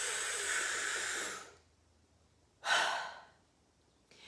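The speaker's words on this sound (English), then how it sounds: "Here's my cartoon person or high clavicular breath." One person demonstrating a high clavicular breath, a long breathy exhale that fades away, then a sharp, loud inhale that tails off, with the start of another breath at the end, close and alone.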